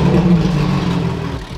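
A Porsche GT3 engine runs on a dyno with a loud, steady mechanical drone and some clatter, holding a roughly even level before easing slightly at the end, with no talk.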